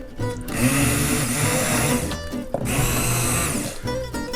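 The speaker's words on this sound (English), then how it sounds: "I'm going to get it started with my stick blender here" A stick blender whirs loudly and steadily, briefly stopping midway before starting up again, with a grinding, churning tone as it purées red curry butternut squash soup.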